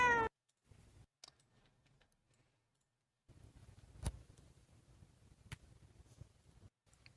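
A very orange cat gives a brief, faint meow at the start. Scattered clicks and low rumbles follow in a mostly quiet room.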